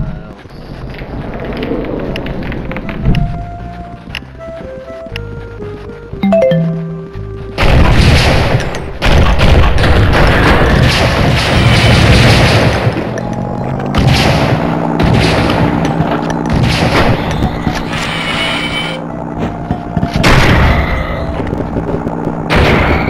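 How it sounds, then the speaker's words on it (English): Weapons loaded with explosive ammunition in the video game Blood and Bacon fire in loud booming bursts mixed with gunshots, following a quieter stretch with musical tones, then continuing as heavy repeated blasts. "I put explosive ammo in all the weapons today."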